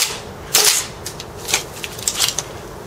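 A G&P gas blowback airsoft rifle with a PMAG, running low on gas, fires a handful of sharp, snappy shots at irregular intervals, close and loud, the later shots weaker and fainter.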